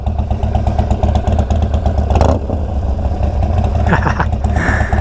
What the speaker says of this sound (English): Alright, here's the idle sound for you guys. And there it is from behind.